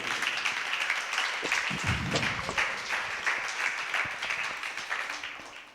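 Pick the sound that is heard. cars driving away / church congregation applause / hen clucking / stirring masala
church congregation applause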